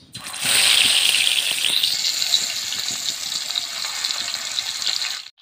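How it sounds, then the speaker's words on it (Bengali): Turmeric-and-salt-rubbed fish pieces hit hot oil in a wok, starting a loud, steady hissing sizzle that holds and slowly eases off. "কড়াই তেল দিয়ে দিয়েছি, তেল গরম হয়ে গেছে,"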